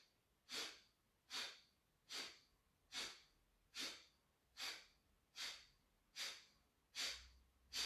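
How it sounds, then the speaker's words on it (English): Breathing during a yoga flow practice: about nine short, forceful exhales through the nose or mouth, evenly spaced and quiet, each a brief airy rush with soft silence between. "And a long breath out."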